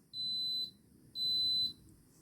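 A slow cooker beeping when its cooking is done: two identical high, steady tones about a second apart, each lasting around half a second, clear and close against a quiet room.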